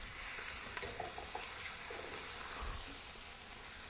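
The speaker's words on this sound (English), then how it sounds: "we're going to pour a little bit of this in here just to deglaze the pan" Liquid poured into a hot pan to deglaze it while cooking grouper piccata gives a dense, constant hiss and bubbling sizzle, close and moderately loud, with a few faint utensil taps.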